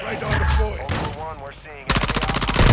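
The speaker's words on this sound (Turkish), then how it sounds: "Dur burada da çatışma var altımızda." A person speaks briefly, then loud rapid automatic gunfire erupts from a firefight below in the video game Call of Duty DMZ, a fast string of sharp, evenly spaced shots.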